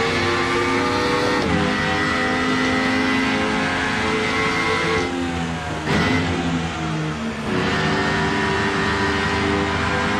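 A high-pitched Mercedes touring car engine in the racing game Rennsport screams loudly and continuously, revving up to 12,000 rpm and down with sharp gear shifts, sounding synthetic.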